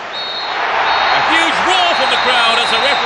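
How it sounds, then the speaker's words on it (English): A stadium crowd roars at the final whistle of a Manchester City vs Manchester United Premier League derby in Pro Evolution Soccer. The dense, loud noise is steady throughout, with whistle tones and rising and falling chant-like voices over it. "Crowd as the referee blows the final whistle."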